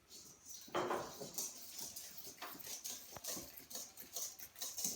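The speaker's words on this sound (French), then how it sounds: "Maintenant tu peux mélanger au fouet." Egg yolks and sugar whisked by hand in a bowl for a strawberry tiramisu, a quick scraping, tapping patter of the whisk against the bowl repeating steadily at close range.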